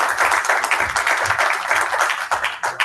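Loud, close applause from a conference audience welcoming a university vice chancellor, a dense continuous patter of clapping hands sustained for a few seconds.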